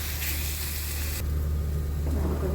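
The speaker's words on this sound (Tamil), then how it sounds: "குழம்புத்தூள், நல்லா வதக்கிக்கோங்க." Kuzhambu masala powder sautéing in a pan while making mocha kotta kuzhambu gives a steady, close sizzle with a low rumble underneath that continues for the whole stretch.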